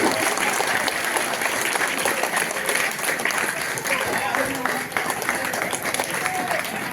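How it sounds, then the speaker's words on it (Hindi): A crowd at a school parent-teacher gathering keeps up steady, dense applause for Chhotu Kumar, the first-rank student, with a voice speaking over the clapping. "जोरदार तालियों से स्वागत कीजिए छोटू कुमार का"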